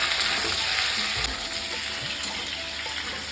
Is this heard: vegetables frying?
yes